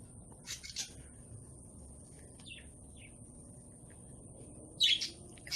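Birds chirp in sparse, faint tweets against a quiet background, with a brief, slightly louder cluster of calls near the end.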